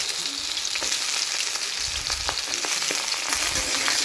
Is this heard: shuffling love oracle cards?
no